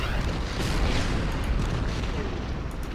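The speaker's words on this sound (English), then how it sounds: "And the artillery will fire on T-34." Artillery firing on a T-34 tank in the Order of Battle strategy game, dense rumbling booms and blasts merging into a continuous loud roar.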